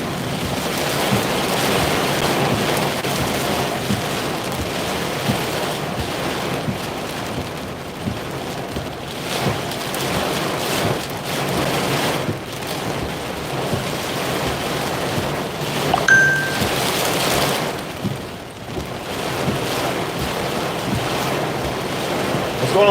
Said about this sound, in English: Midlothian is storming, crazy rain too, hard too.